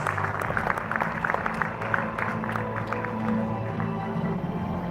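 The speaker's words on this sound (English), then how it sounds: "Please put your hands together and give him a round of applause." Applause from the audience at a travel awards gala, with clapping of moderate loudness and a soft crowd murmur beneath it, steady across the moment.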